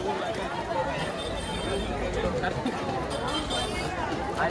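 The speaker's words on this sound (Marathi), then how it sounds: "किती गर्दी आहे, आज संडे आहे म्हणून भरपूर गर्दी झालेली आहे" Busy Sunday fish market crowd, a dense continuous babble of many overlapping voices with shouts and footsteps, close and loud, while a nearby speaker talks over it.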